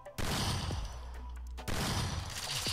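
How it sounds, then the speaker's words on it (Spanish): Two loud bursts of rapid gunfire in a mobile shooting game played on a Poco F4 GT phone, each about a second long, separated by a quieter gap. "vamos a disparar nuevamente"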